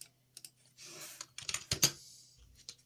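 Quick bursts of key clicks on a computer keyboard while entering a letter in Tinkercad, close and fairly quiet, with short pauses between clusters of presses.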